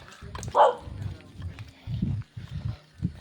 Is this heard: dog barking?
yes